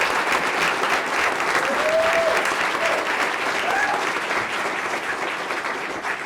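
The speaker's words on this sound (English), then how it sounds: "So a round of applause for that" A school board meeting audience applauds, sustained and fairly loud, with faint cheers or voices rising over the clapping before it eases slightly toward the end.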